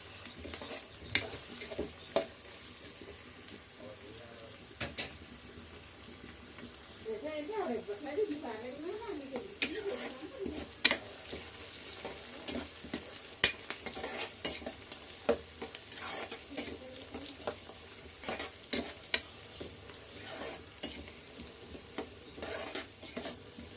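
Food fries in a pan with a low sizzle while a spoon stirs and scrapes against the metal in scattered clicks, a person talking over much of it.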